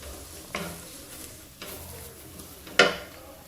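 Spice powders, including coriander powder, fry in a pan over a high flame with a low continuous sizzle and three distinct scraping stir strokes, the last one sharper and louder.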